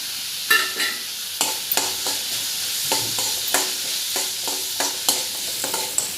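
Onions, cumin, garlic and tamarind frying in hot oil in a pan, a bright continuous sizzle punctuated by regular spatula stirs and scrapes, close and fairly loud, no speech.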